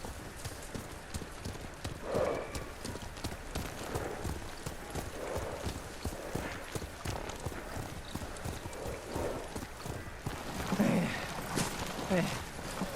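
Horse hooves clip-clopping steadily while riding in the video game Ghost of Tsushima, a quiet, regular trotting rhythm throughout, with people talking over it at moments.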